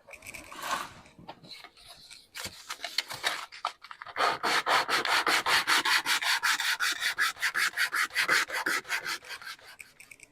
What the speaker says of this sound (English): it's too wide. So I have to sand this down here